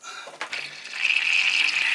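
A circuit board is lowered into a tank of etching solution, giving a brief splash and then a steady, close bubbling hiss of liquid that builds and holds.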